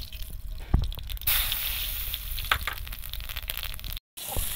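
Oil and black cumin seeds fry in a wok, a close hissing sizzle that swells after the seeds go in, with a few thumps and a brief silent gap.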